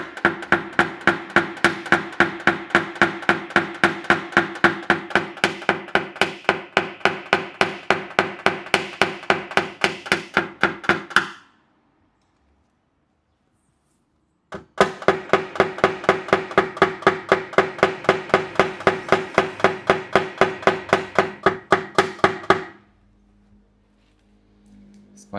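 Rapid, steady metallic tapping with a small pin on a raised spot of a Renault Fluence body panel crease, close and loud, in two long bursts separated by a few seconds of silence.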